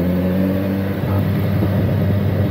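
Kawasaki Versys 1000 motorcycle on a solo ride, recorded with the built-in mic and no external microphone: a steady, loud engine drone mixed with heavy wind rumble, with a slight rise in engine pitch partway through and no talking.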